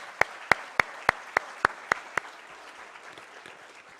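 Applause at the Rome City Institute 2025 graduation ceremony: eight sharp, evenly spaced claps ring out first, then a softer, steady crowd clapping carries on underneath.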